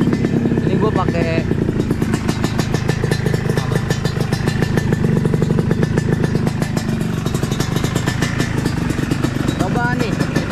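A rare two-stroke motorcycle engine runs loud and close, a constant buzzy, crackling drone with slight revving swells, while a voice speaks over it.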